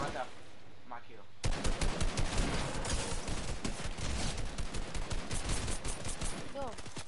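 Loud bursts of automatic gunfire erupt in a shooting video game after a quieter opening, continuing in rapid rhythmic volleys for several seconds while a voice talks over the shots.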